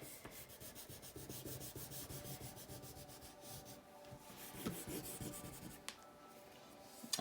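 A yellow crayon colors in the sand of a simple sandcastle drawing on paper, making a steady, faint, close scratchy rubbing with fast back-and-forth strokes and a few brief louder scrapes near the end.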